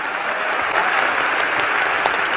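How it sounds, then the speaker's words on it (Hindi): An audience at a religious discourse on the Ram Katha bursts into sustained, even clapping, dense and fairly loud throughout with no talk. "एक बार ताली बजाओ"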